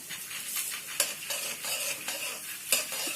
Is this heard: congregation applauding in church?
no